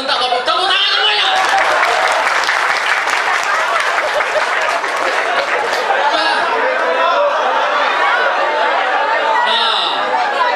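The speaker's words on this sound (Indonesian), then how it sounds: "Tepuk tangan semuanya." An indoor audience at a training seminar applauds loudly and continuously for about ten seconds, with chatter and a little laughter mixed in under the clapping.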